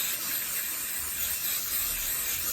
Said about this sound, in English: I'm just going to put a little bit of spray adhesive